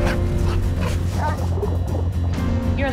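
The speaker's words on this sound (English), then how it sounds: "That's the dog I gave the meatballs to." A dog barks and whimpers loudly up close amid a dense, busy background of film trailer sound.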